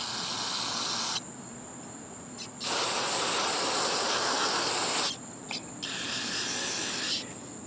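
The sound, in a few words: spraying to rinse lawn mower carburetor float and needle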